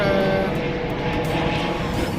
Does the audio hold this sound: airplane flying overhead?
yes